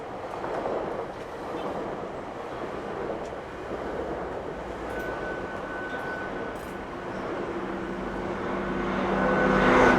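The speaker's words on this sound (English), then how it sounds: "Oh, you got a GO train going by." A GO commuter train in Toronto rumbles past at a distance, a continuous rolling roar with faint rail squeal that swells toward the end.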